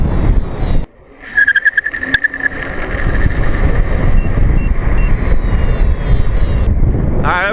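A 134V 7000W dual-motor electric vehicle takes off at full throttle with a steady motor whine and wind rush, a sharp tire squeal near the end and voices heard over it.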